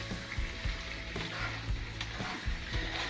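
Pasta with rocket pesto and ricotta is tossed in a pan with a little cooking water, a soft steady sizzle with occasional scraping and clacking stir sounds, quiet and close with no talking.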